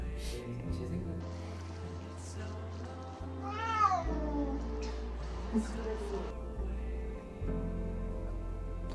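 A single drawn-out cat meow rises and falls in the middle, fairly clear, over a low steady hum and faint background noise.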